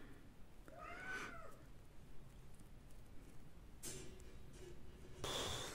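A house cat gives one clear, rising-then-falling meow near the start, followed by quieter rustling and a few faint squeaky cries against a hushed indoor room.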